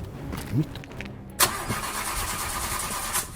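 A car engine turns over and fires abruptly, then keeps running in a steady, fairly close idle, with a short vocal sound before it starts.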